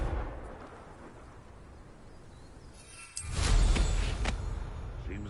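A Confringo blasting curse detonates in Hogwarts Legacy, a sudden loud boom breaking out of a quiet background, followed by a few crackling bursts and a lingering low rumble.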